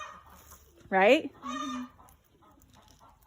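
A rooster clucks in a backyard flock, two loud, drawn-out calls close together and near, with soft talk faintly around them.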